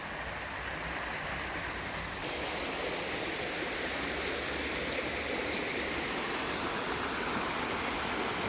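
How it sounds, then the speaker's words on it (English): The River Rivelin flows through its wooded Sheffield valley, a steady broadband rush of running water heard alone, swelling slightly after the first couple of seconds. "my first sighting of the River Rivelin proper, rather than, you know, just a little trickle of water next to a dam"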